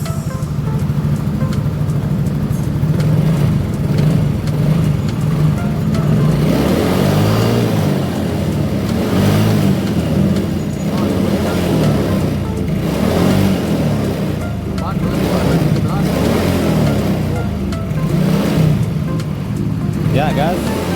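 A Yamaha Soul GT scooter with an overcharging fault runs steadily at close range, its engine note rising and falling in several rev surges over a constant low drone, with a voice speaking over it.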